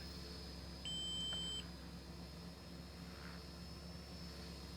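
An RC radio transmitter's timer gives a short steady electronic tone lasting under a second, heard over a constant drone from an RC helicopter flight simulator, with no voices.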